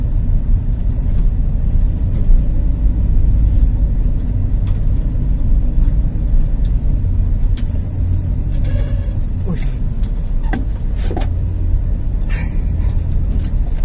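A car engine labours up a narrow, climbing back road near a forest recreation area, a loud, close, continuous low rumble with the drone of the motor under load, while people talk over it.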